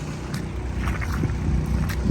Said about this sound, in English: Got pumps and everything running in the background, as you can hear